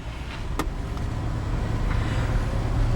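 A 1972 Plymouth Roadrunner with the GTX option, all original with matching numbers, drives along with a steady low engine rumble that builds slightly, heard from inside the car with one brief click early on.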